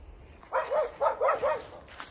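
A pack of stray dogs barking in the open: several close barks come in quick succession, a rhythmic run of four or five loud woofs in the middle, followed by a fainter yip.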